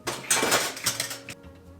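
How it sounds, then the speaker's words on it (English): Metal pots and pans in a professional meal prepper's home kitchen being shifted and stacked, a close burst of clattering and scraping clanks for over a second, then a faint ringing tail, with no talk. "Oh, big stack of pots and pans."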